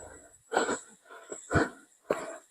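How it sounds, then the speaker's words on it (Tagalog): Heavy, ragged panting from a hiker climbing a steep trail up Bataan Peak, three loud breathy gasps close to the microphone in quick succession. "Hingal."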